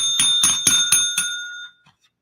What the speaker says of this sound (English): This is another game with a bell.